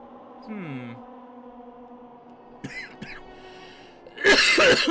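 A person gives a short burst of coughing or throat clearing near the end, loud and close. Before it there are faint game sounds and a brief voice.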